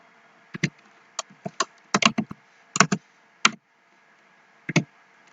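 Computer keyboard keys clack in short irregular bursts while HTML code is entered, crisp and near, with clustered strokes separated by brief pauses against a quiet background hum.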